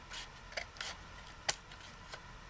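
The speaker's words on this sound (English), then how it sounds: "I want to cut this a little bit lower." Scissors snip paper for a Tim Holtz policy folder, a few quiet close cuts and rustles followed by one sharp, crisp snip, then a faint last cut.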